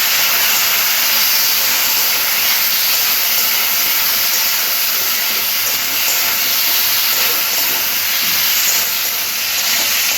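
Water splashed into a pan of frying spiced pumpkin, giving a loud, continuous broadband sizzle and hiss that holds steady with no talk.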